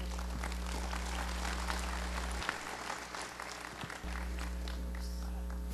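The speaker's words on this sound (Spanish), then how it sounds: "un aplauso por favor a la madre" Faint, steady applause from an audience at a Spanish-language religious gathering, soft clapping sustained for several seconds over a constant electrical hum.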